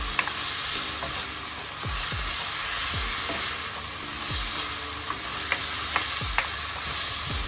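Pork golden curry simmering in a pot, a steady close sizzle and bubbling with scattered light clicks and scraping stirs.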